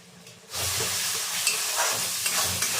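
Masala frying in a pan bursts into a loud, steady sizzle after a brief quiet start, with stirring scrapes and small crackles running through it.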